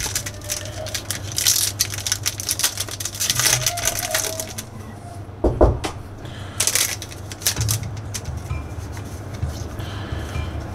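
A Pokémon Fusion Strike booster pack is torn open, with crisp foil crinkling and tearing in busy bursts, then a short quiet gap followed by more rustling of the wrapper and cards up close.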